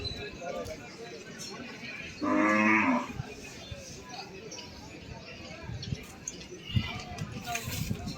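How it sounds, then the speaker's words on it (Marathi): A single loud, drawn-out moo comes from a Lal Kandhari bull, about six and a half feet tall, standing among other bulls. People talk in the background at a livestock gathering. "हे एकाच मालकाचे बैल आहेत"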